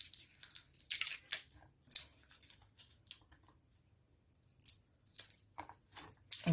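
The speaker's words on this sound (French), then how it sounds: "couper l'ail." A knife chops garlic on a board with sharp, quiet, irregular strikes that come in small clusters, close by and alone.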